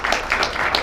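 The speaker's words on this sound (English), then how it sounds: "We can still applaud her" A small audience applauds at a Power Circle presentation meeting, a soft, steady patter of clapping throughout with no clear voices on top.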